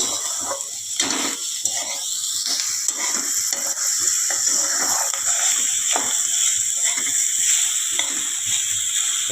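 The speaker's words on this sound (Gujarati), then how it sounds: "આ બધું હવે મિક્સ કરીશું, વલોવીશું." Bitter gourd curry with turmeric, coriander-cumin powder and sugar, stirred in a pan: a continuous bright sizzle under repeated scraping strokes of a spoon, close and steady, with no voices.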